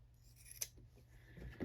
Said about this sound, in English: I'm just going to snip off those extra bits that we don't need.